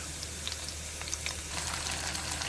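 Onions frying in a hot pan during home cooking, a soft steady sizzle with scattered crackles and pops over a low background hum, no talking.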